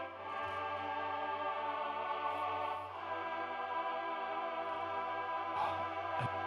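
A mellotron playing the chorus part within a song mix, a dense, steady sustained chordal wash with a low drone beneath, moderately quiet and without talk.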